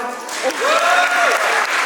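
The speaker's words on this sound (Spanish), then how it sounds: "Hay un aplauso para el güero." Audience applause at a Day of the Dead festival show in Xcaret park, a steady burst of clapping throughout with a voice speaking over it.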